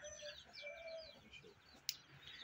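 Chickens cluck and chirp softly in the distance, a scattered flock murmuring, with a brief sharp click near the end.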